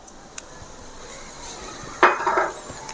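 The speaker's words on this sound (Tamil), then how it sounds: "எண்ணெய் நல்லா சூடாகட்டும் சோம்பு போட்டுக்கிறோம்" Fennel seeds tipped into a pan of hot oil for an egg and cluster bean stir-fry land with a sudden crackling sizzle, after a faint clink of utensils, close and alone with no talk.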